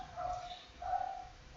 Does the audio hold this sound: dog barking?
yes